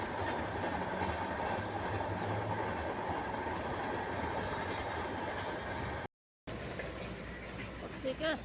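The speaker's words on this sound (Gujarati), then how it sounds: "નીકળી ગઈ ટ્રેન." A train rolls away from a station with a steady loud rumble and rhythmic clatter of wheels on track, briefly cut off then resuming, while voices and birds are faintly heard.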